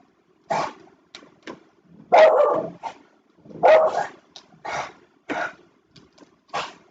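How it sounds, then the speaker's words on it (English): A dog barks repeatedly nearby, about eight loud, gruff barks in an uneven rhythm with brief silences between them, heard alone without talk. "That's my dog barking."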